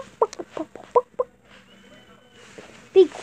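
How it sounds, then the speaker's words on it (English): Game chicken clucks in short, choppy bursts, several quick clucks in the first half and another near the end, with quieter sounds in between. "Be quiet, chicken."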